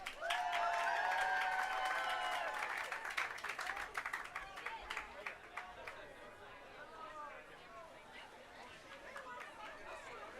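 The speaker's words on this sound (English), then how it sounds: "Can we please give a round of applause so we can get started for our honoree?" Applause and cheering from a crowd at a Walk of Fame ceremony for an actress, loud at first and tapering into scattered clapping and crowd chatter over the remaining seconds.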